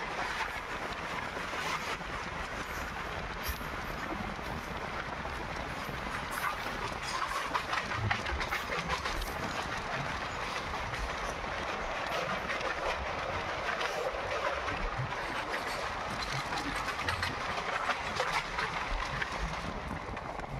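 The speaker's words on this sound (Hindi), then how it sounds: "सामने से हमारी WAG 9 के साथ में हमारी मालगाड़ी की क्रॉसिंग हो रही है।" A freight train hauled by a WAG 9 electric locomotive passing on a railway line, a steady, continuous rumble with rhythmic wheel clatter over the rails, sustained and even for the whole stretch.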